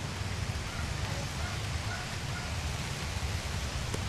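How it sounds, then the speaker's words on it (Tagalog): Heavy rain pours down in a steady, dense wash of hiss with low rumbling patter, loud and even throughout with no voices over it. "kusog-kusog na gid ang ulan"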